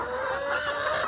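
Domestic laying hens, white and red egg-laying birds kept at home, cluck steadily and close by, with no talk over them.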